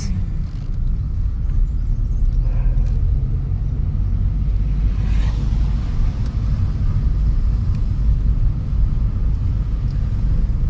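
A learner driver's car on a driving-school road trip around Solan, with a steady low engine rumble and road noise that rises as the car speeds up after a speed breaker.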